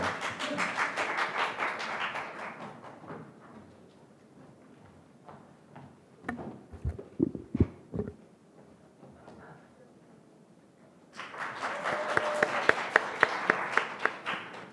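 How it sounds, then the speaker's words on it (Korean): An audience at a youth speech contest breaks into applause to welcome a student speaker, a bright wash of many hands that fades into scattered claps and silence before a second burst of clapping swells up. "박수로 맞아주십시오"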